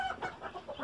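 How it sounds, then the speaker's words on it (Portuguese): Japanese Silkie hens clucking close by in a coop, with several soft repeated clucks in a steady rhythm and no talk over them. "Vocês estão ouvindo aí galo pegando,"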